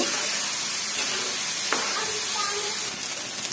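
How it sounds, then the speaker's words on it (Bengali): Mung dal fries in hot oil, giving a steady, even sizzling hiss that runs unbroken throughout, close and moderately loud, with one faint clink partway through. "ডালগুলো এখন এই তেলের মধ্যে সুন্দর করে ভেজে নিতে হবে"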